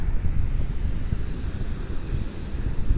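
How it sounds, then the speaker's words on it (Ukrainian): Sea waves wash onto a sandy beach in a steady low rumble of surf, mixed with gusts of wind buffeting the microphone and no voices. "Це небо, ці хвилі, відображення на піску."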